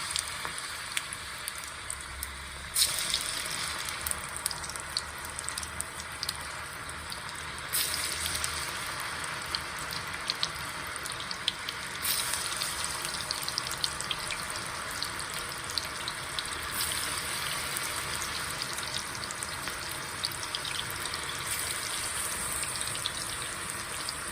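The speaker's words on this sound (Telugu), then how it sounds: "ఆయిల్ కాగిందండి ఇప్పుడు మనం తీసి చేసి చేసి పెట్టుకున్నాం కదా బాల్స్ కీమా బాల్స్ ఇవి ఒకటొక్కటిగా చేసుకుని వేయించుకుందాం" Mutton keema balls deep-fry in hot oil, a steady, loud hiss and crackle that keeps going throughout with a few sharper bursts, and no voices.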